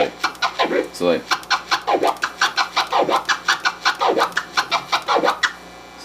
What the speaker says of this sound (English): That's a flare and a chirp being alternated.